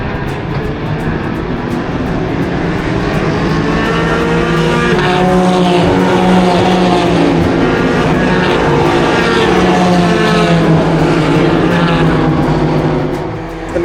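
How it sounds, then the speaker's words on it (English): Race cars in the Michelin Pilot Challenge at Sebring roar past nearby, with loud, sustained engine notes and overlapping rising and falling pitches as the pack passes, then fading slightly at the end. "The Michelin Pilot Challenge race has started"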